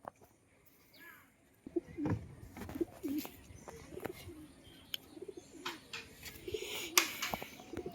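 Soft coos from high-flyer pigeons repeat at an easy pace over a rustling outdoor background, with a few sharper knocks and faint chirps scattered through.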